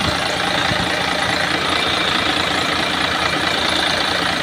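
A freshly rebuilt Mercedes-Benz V6 engine idles steadily, a loud, even mechanical rumble with a dense whirring hiss and no pauses, close up.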